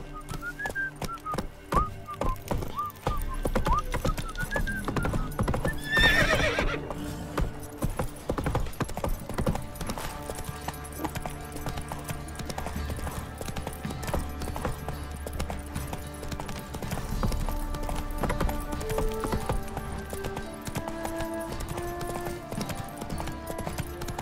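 Roach the horse gallops in The Witcher 3, a rapid rhythmic clip-clop of hooves running steadily throughout, with a brief whistle and whinny early on.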